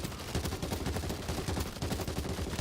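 Video-game gunfire from automatic weapons, a rapid, steady run of loud close-range shots that goes on without a break for nearly three seconds with no talk.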